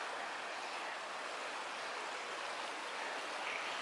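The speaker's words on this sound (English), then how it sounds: "This is the river." A river flows steadily on a late night by a bridge, a constant broad rush of moving water that holds even and unbroken throughout, with no voices.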